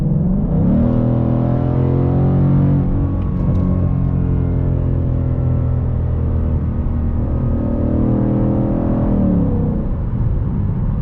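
A deep, rumbling 2020 Mustang GT engine with cold air intake, revving in Sport Plus mode, holds steady near the listener, its pitch climbing and settling in long, throaty swells.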